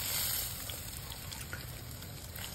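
Tulingan fish frying in a pan, a steady broadband sizzle of hot oil crackling close up, with small pops scattered throughout and no talk.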